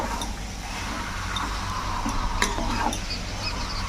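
Chicken pieces are stirred and fried in a pan for chicken kosha, giving a steady soft sizzle broken by occasional light scrapes and clicks of a spoon, with no voices.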